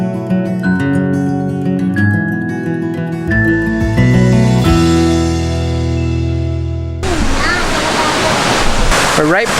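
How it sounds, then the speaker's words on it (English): Music plays for most of the stretch, then a waterfall at Corbett's Glen Nature Park in Rochester, New York, roars in as a loud, steady rush during the final few seconds. "We're right close by the waterfall right now. I'm sure you guys can hear it."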